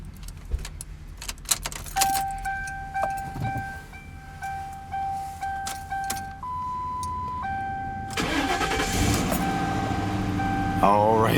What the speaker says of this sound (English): this car started up right away